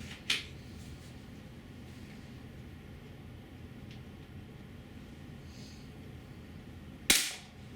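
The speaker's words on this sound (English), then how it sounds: "So I shot 3 more shots." Two sharp shots from a GAMO P-900 IGT .177 gas piston air pistol during a target test, one near the start and one near the end, each a loud close crack over a low steady background hum.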